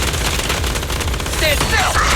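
Rapid automatic gunfire in the video game Zenless Zone Zero, a dense continuous burst of loud shots with no break.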